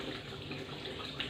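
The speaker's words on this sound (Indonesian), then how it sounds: "kita nyalakan keran" A tap runs steadily into a sink for hand washing, giving a close, even splashing hiss for just over a second.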